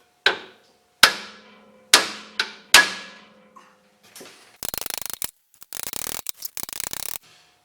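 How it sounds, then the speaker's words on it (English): Four sharp metallic hammer blows ring out on the carriage of a Frantom rock saw being repaired for a bad arbor bearing, each decaying with a clang, followed by a few lighter taps and bursts of scraping, rattling clatter. "Let's hit the carriage."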